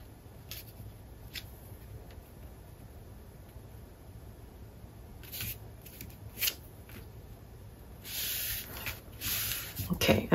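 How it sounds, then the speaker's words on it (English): Scissors trim a blue paper piece for a Graphic 45 bird-watcher mini album, giving soft close snips and rustling paper that build toward the end, with faint sounds between the cuts. "and then I can trim down the blue piece to fit."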